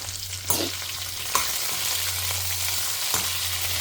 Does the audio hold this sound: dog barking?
no